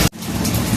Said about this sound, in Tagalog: Lakas na ulan dito sa aming tindahan ngayon.